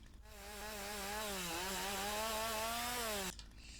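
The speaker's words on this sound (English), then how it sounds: "the chainsaw won't cut these big ones. So you get a little red circle and it says tree too big for chainsaw" A chainsaw cutting small trees in the video game Lumberjack Simulator, a steady buzzing motor tone that rises and wavers for about three seconds before cutting off, heard alone.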